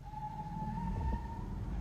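A police siren wails during a car pursuit, a single steady tone rising slightly over a low rumble of traffic, moderately distant.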